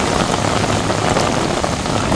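Heavy storm rain in Mecca pours steadily and loudly, a dense, unbroken hiss of water with no voices.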